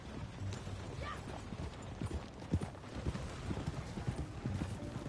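Horse hooves clip-clop in a steady walking rhythm in Red Dead Redemption II, close by, with faint creaks of tack and gear mixed in.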